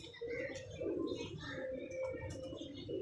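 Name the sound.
pigeon cooing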